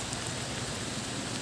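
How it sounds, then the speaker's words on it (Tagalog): Rain falling outdoors, a brief steady hiss of dense drops with no talk heard over it. "Ayun na, ulan na. Naabutan na kami ng ulan."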